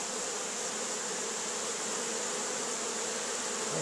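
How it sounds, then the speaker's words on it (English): Tasmanian honeybees buzz steadily at the entrance of a hive beside a neighbouring colony, a dense continuous hum with one bee fanning at the entrance, and no voices. "See that one over there fanning the entrance."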